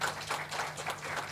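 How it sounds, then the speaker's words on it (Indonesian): Scattered applause from an audience at an agent gathering, quiet and somewhat distant, with a run of uneven claps across a short stretch. "Tepuk tangan dulu ya."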